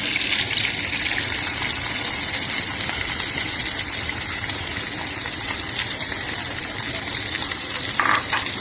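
Okra and curry leaves fry in a pan with a loud, continuous close-up hiss and sizzle that holds steady throughout.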